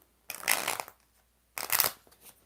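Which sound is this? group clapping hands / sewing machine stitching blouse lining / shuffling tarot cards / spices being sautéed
shuffling tarot cards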